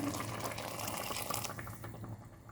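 Water pours into a cooking pot for rice, a close, gurgling splash that runs steadily and then tapers off.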